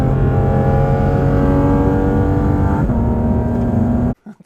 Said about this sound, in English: this is the new Dundon project car, like Lab Rat, GT4-RS, Weissach package